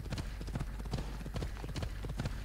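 Horse hooves clip-clop in a steady galloping rhythm across open ground outside a town in Assassin's Creed Odyssey, close and loud with faint game ambience beneath.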